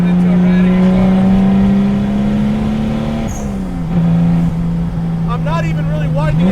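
A 2JZ-swapped Datsun 260Z rat rod drives under moderate throttle, its engine droning loudly with a slight drop in pitch midway before settling, plus occasional chirps and rattles, all close up with no talk.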